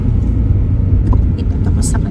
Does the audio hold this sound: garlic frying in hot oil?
no